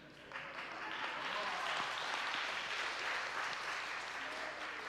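Church audience clapping their hands together, a dense sustained wash of applause from many people filling the room, steady and fairly loud throughout.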